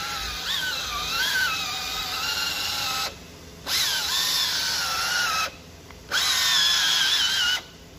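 A cordless power drill with a buffing pad polishes a car headlight, running in three long bursts with brief silent pauses between, its whine rising and falling in pitch as the load changes.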